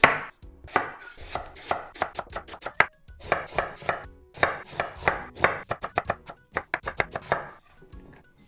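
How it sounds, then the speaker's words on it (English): A knife chopping eggplant into small dice on a cutting board, crisp rapid bursts of close taps in quick runs separated by short pauses. "Then for the eggplant, I'm gonna cut into kind of small dices."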